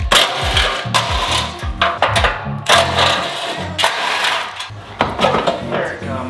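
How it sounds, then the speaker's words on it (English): The bumper beam coming off a 2022 Subaru WRX: close metallic clunks, rattles and scraping, with knocks of the bar being worked loose in uneven bursts. "All right, crash bar is coming off."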